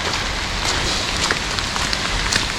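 Heavy rain pours down steadily, a dense, even hiss of drops hitting the ground with no pauses, fairly close and at a constant level.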